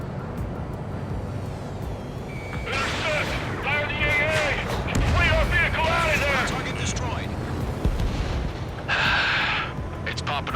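Anti-aircraft fire and explosions in the flight combat video game Ace Combat 7, a continuous roar of rumbling blasts and gunfire under shouted radio chatter, with bright bursts rising through the middle and near the end.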